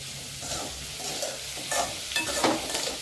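Radish sizzles and crackles steadily in a hot pan for sambar, with a few scraping stirs from a utensil, close up and moderately loud.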